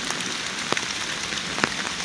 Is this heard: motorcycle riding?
no